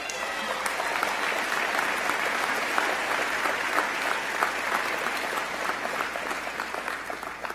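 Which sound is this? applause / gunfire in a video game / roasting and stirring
applause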